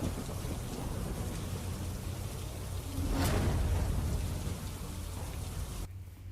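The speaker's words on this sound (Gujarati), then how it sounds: "અમરોલી વિસ્તારમાં પણ વરસાદ છે" Monsoon rain pours steadily in the Amroli area of Gujarat, a dense wash of drops with a deep rumble of thunder swelling midway, then the sound cuts off abruptly near the end.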